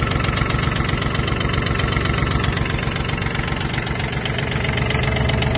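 A Yanmar F-180 18-horsepower Japanese mini tractor's small diesel engine idles steadily and close by, with a rhythmic knocking chug and constant vibration throughout.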